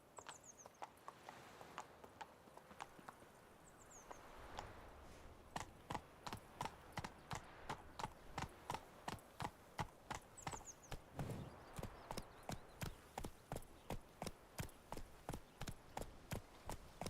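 A horse's hooves clip-clop in The Witcher 3, starting as scattered steps and then settling into a steady, fairly quick rhythm that keeps up to the end.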